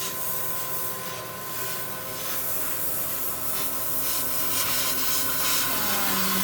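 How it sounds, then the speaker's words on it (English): A torch roaring in a continuous hiss while it seals off a sample tube under vacuum in a soils lab, steady and close with no talking. "I'm going to just use my torch here to seal this sample off while it's under vacuum"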